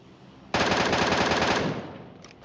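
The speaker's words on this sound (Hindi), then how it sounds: "अब आखिरकार मैं गोलियां चला सकता हूं।" Automatic gunfire in the PUBG Mobile video game: a loud, rapid burst of about a dozen evenly spaced shots lasting roughly a second, then a fading tail and a couple of faint distant shots.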